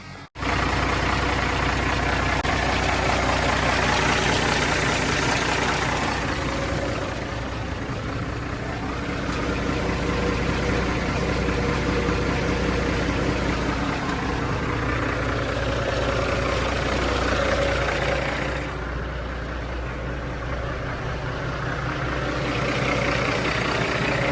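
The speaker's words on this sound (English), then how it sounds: "Fire up real quick and make sure we're all good." A semi truck's diesel engine, fresh from an exhaust pipe repair with no more leaks, rumbles steadily at idle close by, its low throb continuous throughout with slight swells in loudness and no talk.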